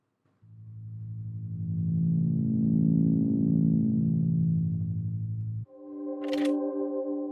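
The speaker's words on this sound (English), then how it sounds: "The door opens, makes the sound." A long droning mechanical hum swells and holds for several seconds, then cuts to a brief higher tonal chime with a sharp click, like a door mechanism; a door-opening sound effect in a VR game.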